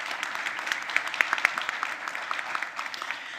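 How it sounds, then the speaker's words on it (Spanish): Moderate applause from an audience at a conference on open governance and AI, with scattered individual claps standing out from a soft, continuous patter throughout. "Un aplauso para ellas, por favor."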